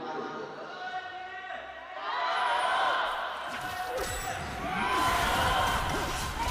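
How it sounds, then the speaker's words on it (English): Fans of NIP at a League of Legends LPL Spring match between Anyone's Legend and Ninjas in Pyjamas roar and applaud in an arena, a broad crowd swell rising in waves beneath a caster's excited commentary. "The NIP fan chants erupt into thunderous applause as they pick off Tarzan for first blood"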